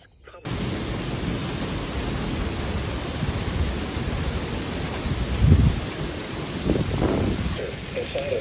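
Steady roar of heavy rain from a severe thunderstorm over southern Wisconsin with large hail, a dense continuous wash with a couple of low rumbling swells near the end.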